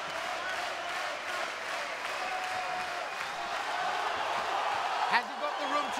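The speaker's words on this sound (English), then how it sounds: "A restart, and the crowd here willing Bratovž on" Crowd noise fills an arena at a WFC mixed martial arts event, a steady roar with scattered claps and whoops beneath a commentator's voice, and one brief sharp accent near the end.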